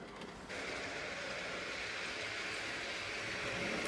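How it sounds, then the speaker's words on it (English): A model railway Pullman train runs past on a terrace layout, giving a steady close rolling rumble with light clicking of wheels over rail joints that starts abruptly and carries on evenly with no voices. "There's a Pullman skipping by again."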